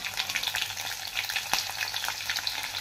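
Green chillies fry in a hot cumin and mustard seed tempering for poha, a dense, close crackling sizzle that runs throughout with light stirring.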